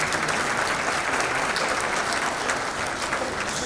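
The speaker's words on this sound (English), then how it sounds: "Please applause for them." Steady, dense applause fills a lecture hall audience at a talk honoring supporters of a poet, a continuous loud wash of many hands clapping with no pauses.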